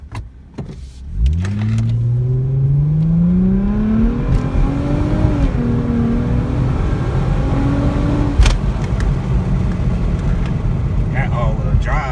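A 2004 Infiniti G35X all-wheel-drive sedan pulls away and accelerates, its engine note rising steadily over several seconds before settling into a continuous road drone, with a person talking over it.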